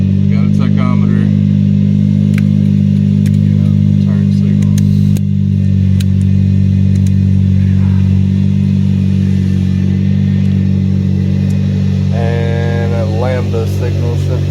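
Honda Civic engine fitted with a Skunk2 intake manifold idling steadily, a loud, even low hum that runs throughout, with a few clicks and brief mechanical clatters on top.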